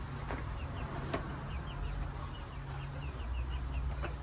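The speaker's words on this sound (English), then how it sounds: "The chickens are going nuts, digging, scratching, looking for seeds and bugs and everything else." Chickens cluck and scratch busily in a feeding frenzy, digging for seeds and bugs, with soft repeated clucks and chirps spread across the whole stretch over a steady low hum, no talking.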